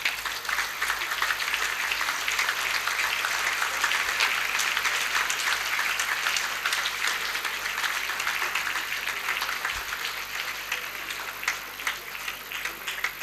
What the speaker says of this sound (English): Please, a round of applause as he